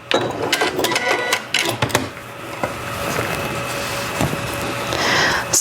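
A sewing machine runs a back stitch in loud bursts, its needle whirring forward and reversing, with mechanical clicks and a steadier hum later on.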